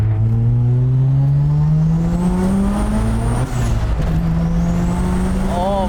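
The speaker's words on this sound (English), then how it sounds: "so I'm gonna do a little spin" A 13B rotary-swapped Mazda RX-3 with over 500 hp accelerates hard from inside the car, its engine rising in a loud, steady climbing whine with a brief shift dip midway.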